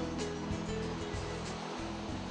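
Waves break and wash steadily on a beach in Padang, a dense continuous roar of surf with low rumbling pulses, close and fairly loud, with no voices.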